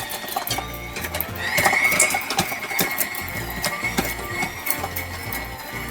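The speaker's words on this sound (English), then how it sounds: "put the mixer on medium-high for just a few seconds to get it going" A stand mixer runs on medium-high, beating butter for cookie dough, giving a loud, steady mechanical whir with rhythmic clacking of the beater throughout.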